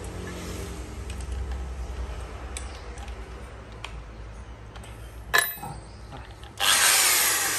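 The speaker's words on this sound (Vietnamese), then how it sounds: "Đây là khoan gạch nhé." A Dekton 13 mm electric drill fitted with a concrete bit bores into brick, giving a steady grinding hum that ends in a sharp rise to a loud, harsh burst of drilling.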